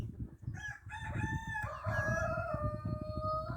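A golden Padovan hen, bearded and crested, gives drawn-out, crowing-like calls close by, rising and wavering over a steady background rumble, with no talking.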